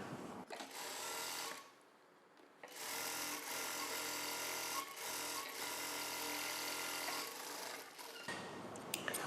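A sewing machine sews a blouse belt, whirring loudly and steadily almost throughout with one brief pause near the start and a stop at the very end.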